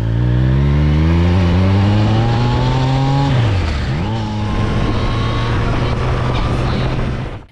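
A Triumph Street Triple motorcycle exhaust revs hard, its pitch climbing steadily, dropping sharply as the throttle is released, then settling into a loud, steady drone up close.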